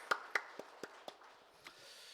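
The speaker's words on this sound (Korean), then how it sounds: "우리 호산나 찬양대 한번 격려의 박수 한번 하시겠습니다" A church congregation claps briefly for its small choir during a Sunday worship service, a short run of faint, sparse, evenly spaced claps that dies away in a quiet hall.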